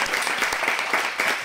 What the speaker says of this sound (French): Applaudissons-les pour les remercier